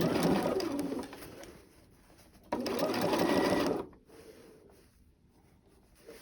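A sewing machine stitches quilt fabric for half moons and crescents in two loud, rapid bursts of whirring needle chatter separated by a pause, with quieter handling sounds afterward.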